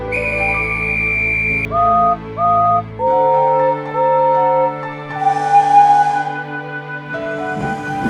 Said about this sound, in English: will you kindly give the whistle?